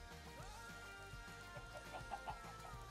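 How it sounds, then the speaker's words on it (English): Chickens cluck in Minecraft Bedrock, soft scattered clucks and a few brighter calls toward the end over a quiet, steady game background. "Come along, chickens."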